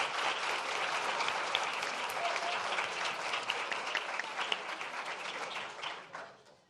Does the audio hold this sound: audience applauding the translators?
yes